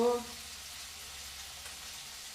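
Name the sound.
spices (turmeric, chili, coriander, cumin) frying in pan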